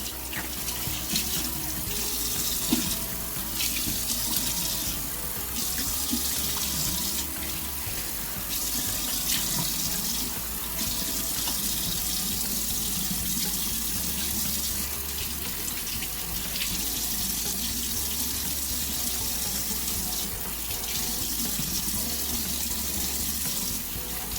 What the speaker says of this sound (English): Then you just want to rinse it off.